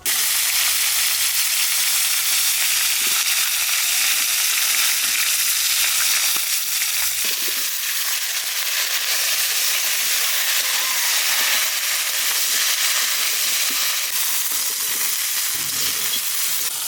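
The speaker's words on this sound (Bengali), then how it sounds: "এই ইলিশ মাছের তেলের মধ্যেই কফি বাড়বো" Cauliflower fries in oil rendered from hilsa fish, a loud, continuous sizzle and hiss that stays steady throughout, with a few faint knocks in the background.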